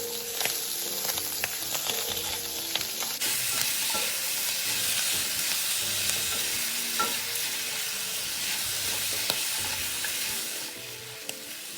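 Pork belly stir-fried in a wok with garlic, three bay leaves and three star anise sizzles steadily and loudly throughout, with scattered clicks and scrapes of stirring and a brief high tone near the start.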